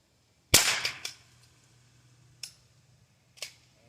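A single sharp crack from a Henry H003T .22LR lever-action rifle rings out nearby, trailed by a few fainter clicks and two softer distant snaps, otherwise quiet outdoors.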